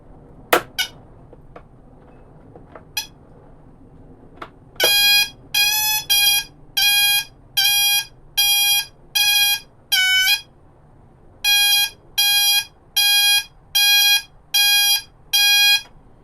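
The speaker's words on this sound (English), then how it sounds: "I think that might just be a backup alarm they put on in here." An electronic vehicle backup alarm beeps in a steady series of about a dozen loud, evenly spaced tones from a fire truck light bar, preceded by a few faint clicks and taps.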